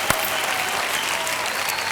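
Enthusiastic applause from a TV game-show studio audience, a dense continuous burst of clapping at close range with no speech over it.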